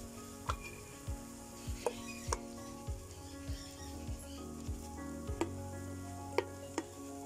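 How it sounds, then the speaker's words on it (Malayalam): Chicken fries in a pan as tomato sauce goes in, giving a low steady sizzle marked by regular, evenly spaced scraping strokes of a spoon against the pan. "ഒരു കപ്പ് ടൊമാറ്റോ സോസ് നമ്മളിതിലേക്ക് ഒഴിച്ചു കൊടുത്തിട്ടുണ്ട്"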